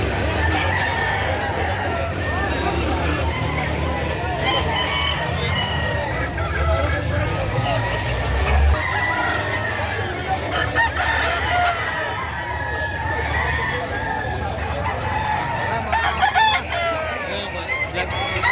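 Rooster crowing at a busy livestock market in Padre Garcia, Batangas, several repeated crows rising over constant crowd chatter and people talking nearby, with other fowl clucking in the background.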